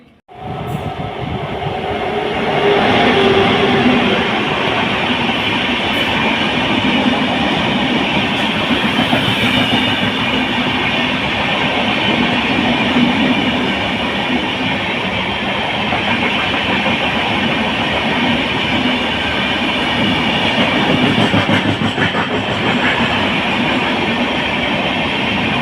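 A train moves through Divine Nagar railway station, a steady loud rumble of rolling wagons with clickety-clack from the wheels that holds for the whole stretch, close by and with no voices.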